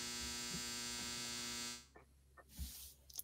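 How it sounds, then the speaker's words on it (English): A clothes dryer's finishing buzzer drones as a steady, harsh electric buzz for under two seconds before cutting off, followed by faint room noise. "Dryer's done."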